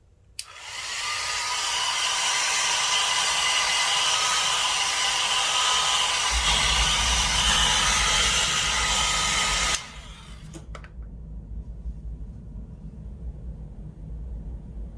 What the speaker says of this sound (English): So this is the BoxyCharm PYT little hair dryer we got one time at a BoxyLux.